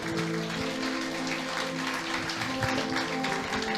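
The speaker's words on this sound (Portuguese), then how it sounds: "Dê um aplauso pela minha sogra" A church congregation applauds the preacher's mother-in-law, a dense even wash of clapping heard for a few seconds, with a sustained musical drone underneath.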